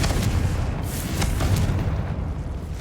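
A spell explosion from Hogwarts Legacy, the Confringo fire curse, lands as a few sharp booming bursts over a dense, rumbling game soundscape, close and loud.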